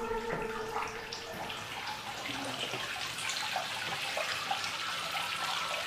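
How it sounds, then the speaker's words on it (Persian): Running water from a tap or a filling bath, a steady splashing rush with some gurgles, at moderate level and with no talk. "صدای آبو دوست داری؟"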